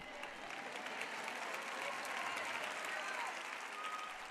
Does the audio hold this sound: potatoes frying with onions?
no